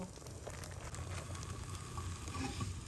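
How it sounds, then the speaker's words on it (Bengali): Raw whole spices frying in hot oil while being stirred in a pan, a steady close sizzle with scraping stir strokes throughout, no talking. "এখন একটু নাড়াচাড়া করে ভাজাটা আমি করে নিচ্ছি"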